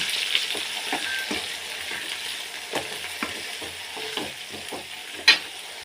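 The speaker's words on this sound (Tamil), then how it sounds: "நம்ம கட் பண்ணி வச்சுருக்க எல்லாத்தையும் உள்ளே போட்டுக்கலாம். வதக்கி விட்டுக்கிறோம்." Chopped onions and vegetables sautéing in hot oil for an eggplant curry, a steady close sizzle with repeated scraping stirs of a spatula and one sharper clack near the end, no talking.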